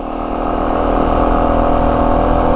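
A 2025 Yamaha WR 450F dirt bike engine running steadily in second gear, a loud, close, constant drone with no speech over it.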